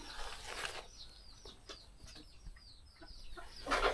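A broody hen sitting on a clutch of eggs for hatching gives soft, scattered clucks and chirps close by, with a brief burst of wing rustling or flapping near the start and again at the end.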